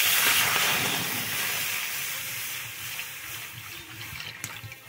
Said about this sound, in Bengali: সেদ্ধর জন্য আমি জল দিয়ে দেবো